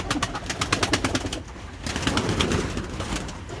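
At a bird market selling pigeons of many breeds, pigeons coo loudly and close by in a throbbing, rhythmic chorus of overlapping calls.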